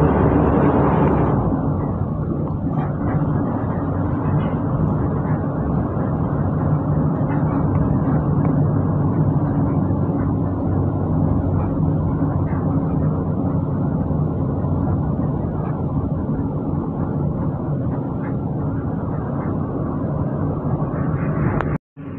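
A Trans Jogja city bus drives along with a loud steady engine rumble and road roar heard from inside, continuous and unchanging for about twenty seconds before cutting off abruptly.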